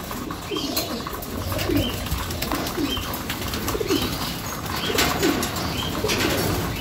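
Several racing pigeons coo in low, throaty phrases, repeating every second or so against a steady outdoor rumble, with occasional wing flutters nearby.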